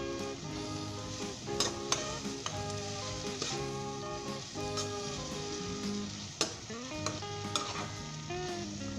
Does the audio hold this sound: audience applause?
no